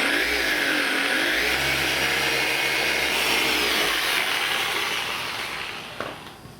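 A power polisher buffs a polyurethane plastic rigid fascia, its motor whirring steadily and loud with a low hum, then winding down and fading near the end.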